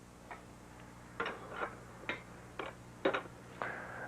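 Faint clicking from a wrench tightening the fuel block bolts on a Weber carburetor, about seven or eight short ticks coming in uneven bursts over a low, steady background hum.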